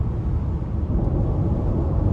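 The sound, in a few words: wind noise inside a moving car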